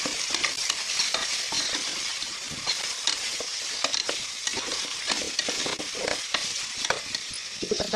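Chicken with tomato, beans, carrot and onion being stirred in a frying pan, a steady close sizzle broken by repeated scraping strokes of the spoon against the pan, with no voices.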